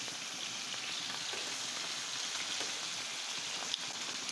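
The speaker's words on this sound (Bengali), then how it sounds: "এটাকে আমি সুন্দর করে যে লাল লাল করে ভেজে নেব।" Pieces of fish fry in hot oil for a kochu fish curry, giving a steady close sizzle with faint crackles and one brief tap near the end, and no talking.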